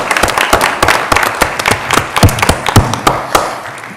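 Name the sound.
audience applause for participants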